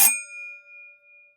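An office call bell rung by pulling a bell cord gives a single bright metallic ding with a sharp strike and a clear ringing tone that decays over about a second, alone.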